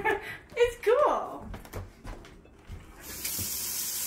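Hot water runs from a tap into a sink in a steady hiss while people talk nearby, and the flow grows louder near the end.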